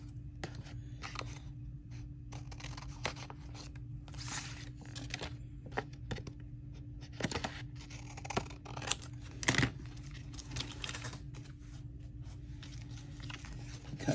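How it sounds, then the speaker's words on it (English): Blue scissors snip and slice through paper for a handmade journal pocket, with scattered crisp cuts and rustling handling noises over a low steady background hum, close by and fairly quiet, no voices. "Where's the blue scissors?"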